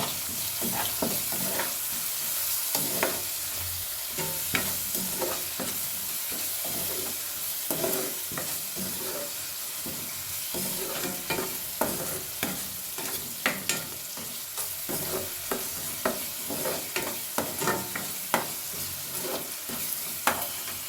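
Vegetables with a pinch of turmeric and a spoon of salt fry in a pan while being stirred, a steady sizzle broken by repeated scraping strokes of the spoon, close and fairly loud throughout with no talking.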